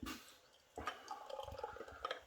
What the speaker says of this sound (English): There we go, rigorous pour because it's been open for about 10 minutes